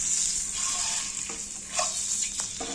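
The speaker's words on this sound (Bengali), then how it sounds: "এবার দিয়ে দিব সিদ্ধ করা দুটি ডিম। ডিমটা আমি ভেজে নিচ্ছি" Two boiled eggs frying in hot oil in a pan, a continuous close hiss and sizzle with a few soft stirring knocks, no talk.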